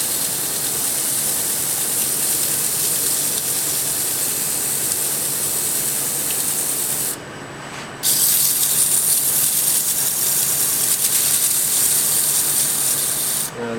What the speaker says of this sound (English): So I just keep sanding to finer and finer grits.